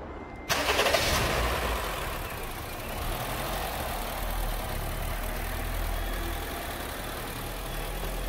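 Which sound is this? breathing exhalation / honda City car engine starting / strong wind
honda City car engine starting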